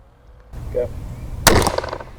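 Ravin crossbow fired at a target, a sharp loud crack of the shot after a faint murmur, with a brief rattling ring-out afterward.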